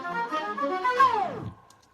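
An orchestral track ending with a slow-down effect, the music sagging and dropping in pitch like a tape winding down over about a second before fading to near silence.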